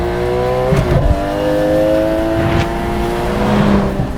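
A Guntherwerks Porsche 911 Speedster engine climbs toward high revs, its loud, rising note pulling up over about four seconds with a brief dip and then a strong second surge, echoing and close, with no voices.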